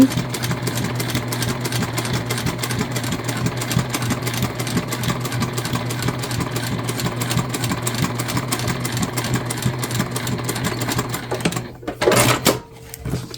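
A sewing machine stitches an Aurora shoulder bag, its motor running in a steady, continuous whir with a fine rapid needle rhythm close by, ending with a brief burst of handling noise.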